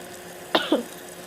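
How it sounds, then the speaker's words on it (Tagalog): Two quick, sharp coughs close to the mic, a short pause between them, in an otherwise quiet room. "Medyo nauubo-ubo nga ako kasi syempre malamig na"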